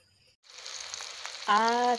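Onion, minced garlic and tomato hit hot oil for ginisang ampalaya, setting off an abrupt, loud, close sizzle that holds steady; a voice briefly hums or speaks over it near the end.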